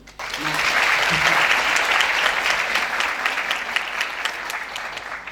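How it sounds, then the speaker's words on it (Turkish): An audience claps at a talk on self-help groups and an African solidarity network, a sudden burst of dense, sustained applause rising after a short spoken phrase and carrying on evenly before slowly thinning. "let's clap for him"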